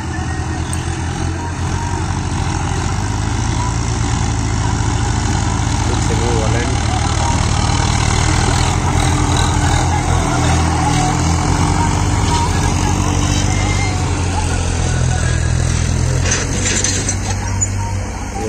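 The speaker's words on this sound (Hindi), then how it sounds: "ये वाला स्वराज ट्रैक्टर आ रहा है।" A Swaraj diesel tractor engine idles and rumbles steadily throughout, a low continuous drone with some clanking, while voices talk over it during pond digging.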